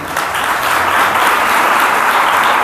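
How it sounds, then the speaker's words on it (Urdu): Loud, sustained applause from a church congregation at a Sunday service, a dense, even wash of clapping that holds steady for the whole stretch with no voices over it. "پہلے ان کے لیے زوردار تالیاں بجائیے۔"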